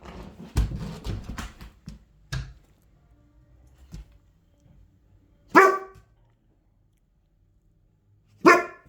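A dog gives several sharp, loud barks at close range, with a short burst early on and two isolated barks separated by quiet gaps.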